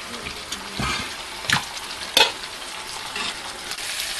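Chicken with coriander being stirred in a pan, quiet sizzling underneath with a few sharp scrapes and clacks of a spoon against the pan at irregular moments.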